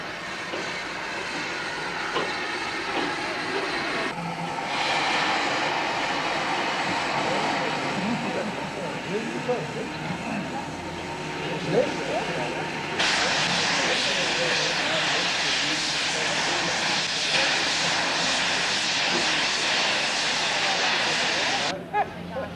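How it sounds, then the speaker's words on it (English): Steam locomotives Class 12 AR and Class 15 CA coupled together on the final leg from Witbank, giving a loud, continuous roar of exhaust and running noise that swells in two stages and holds steady throughout. "A Class 12 AR and a Class 15 CA were coupled up for the last leg behind steam."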